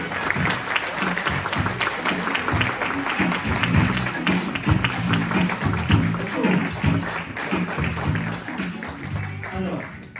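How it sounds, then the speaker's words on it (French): Audience applause at a talk, dense sustained clapping from a crowd lasting the whole stretch, even in loudness and fading slightly at the end. "Éclairons de nos applaudissements Yves Chaudin"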